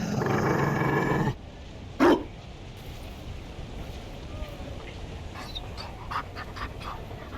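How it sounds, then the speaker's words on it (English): A Mabari war dog in Dragon Age: Inquisition gives a short growl. It follows a loud, noisy opening and sits over quiet game ambience. "You found a dog?"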